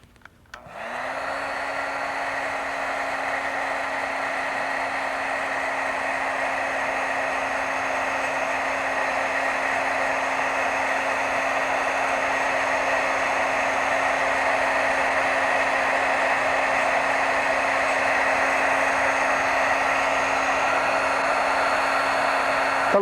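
A heat tool blows hot air steadily onto stamping ink, a loud, constant whirring roar with a high fan whine that starts abruptly and runs unbroken throughout.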